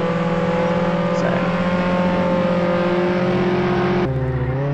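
A sports car engine in Roblox Jailbreak, fitted with a level 5 engine, holds a steady, loud, buzzing drone throughout, its tone stepping to a new pitch near the end.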